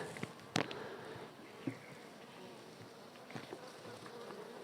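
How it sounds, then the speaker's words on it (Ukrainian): Honey bees swarm over hive frames while nests are being prepared for winter, a faint, steady buzzing hum from many insects with a few brief louder passes of single bees nearby. "Бжоли практично сидять на кожній рамці, обсижують кожну рамку."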